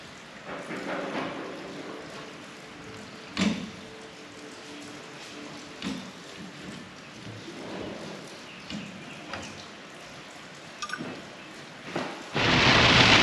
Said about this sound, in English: it is flat pouring